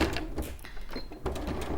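A sewing machine that needs a new needle runs with a rough, clunking clatter, steady and fairly close throughout with small rhythmic knocks.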